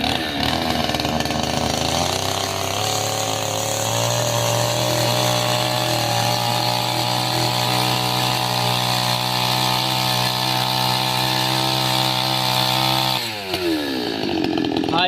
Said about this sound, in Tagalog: Ayos ang tunog ng iyong power saw, Tati Tatsuki.